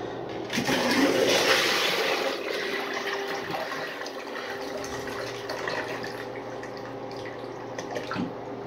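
A miniature 1983 Norris wall-hung toilet flushes close up, a gushing rush of water that peaks early, then settles into a softer trickle and refill.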